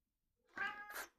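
A cat gives a single short meow that rises and then trails into a second drawn-out cry, close by and alone in an otherwise quiet room.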